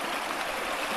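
A shallow river stream on a gorge track flows in a steady, close, broadband rush and babble without pause.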